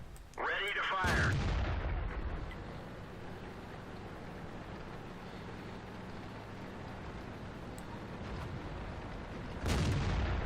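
Tank gun firing in World of Tanks: a heavy booming shot near the start and another near the end, over a low steady rumble, with a brief voice just before the first shot.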